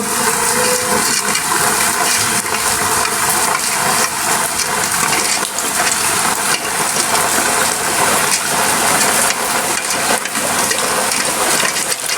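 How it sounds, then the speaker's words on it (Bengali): Steady running water splashes and sloshes for several seconds, with small clinks and rattles mixed in, as duck eggs are washed in water. "পানির ভিতর দিয়ে ভালো করে ধুয়ে নিব"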